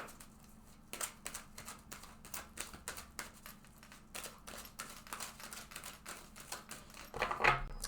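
Rapid, crisp clicks and soft slaps of tarot cards being shuffled, in quick uneven bursts close by, with a brief rustle at the end.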